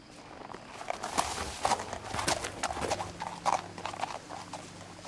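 An elk in the video game What Remains of Edith Finch moves along with a steady run of moderately close hoof clops that rise and fall in loudness over low ambient noise.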